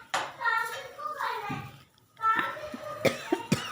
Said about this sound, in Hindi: और मेरे को हो चुकी है खांसी,